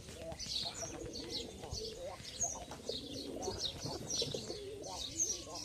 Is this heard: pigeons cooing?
yes